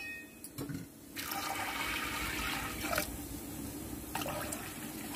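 Water pours steadily into a pressure cooker holding soaked moong beans, a continuous close splashing and gushing that lasts several seconds with no talking.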